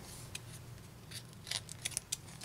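Scissors snip through paper in a quiet indoor setting, a handful of soft, crisp cuts in an uneven rhythm, faint and close, with no talk.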